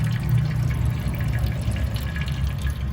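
Coolant drains steadily from the radiator plug of a Toyota Tacoma V6 during a flush, a continuous low trickling splash with no talk over it.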